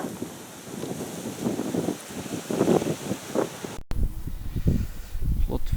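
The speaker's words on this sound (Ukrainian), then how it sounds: "І вітер задовгий." Gusty wind by a canal buffets the microphone in uneven rushes, with a brief cutout partway through before the blustering resumes.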